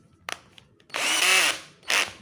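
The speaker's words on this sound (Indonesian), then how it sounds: "mata bor kayu, kita lubangi dulu" A cordless drill fitted with a wood bit bores a hole in wood, starting with a couple of short trigger blips, then a loud whirring run of about half a second and one final short burst, close up.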